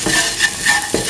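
Quick stirring strokes through a beef, ash gourd and coconut milk stew, close and fairly loud, with a faint sizzle and a couple of utensil scrapes against the pan.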